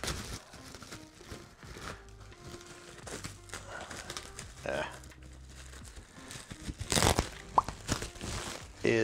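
Craft paper and bubble wrap crunch and crinkle in irregular bursts as a package holding a Funko Pop figure is unwrapped close by, and a person talks over the rustling.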